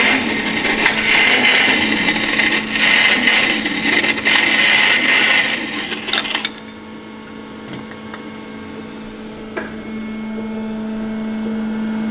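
A honing stone is dressed on a machine used to bore and face new cylinder liners for an Audi RS4 V engine: a loud, steady abrasive grinding roar for about six seconds, then it stops, leaving a low machine hum.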